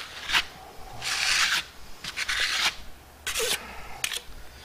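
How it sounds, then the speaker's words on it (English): A trowel blade spreads gritty faux stone plaster across an interior wall in close, rasping sweeps, each stroke a coarse sandy scrape, with brief pauses between passes. "I'm just going to let it roll off my blade. You can hear how gritty it is."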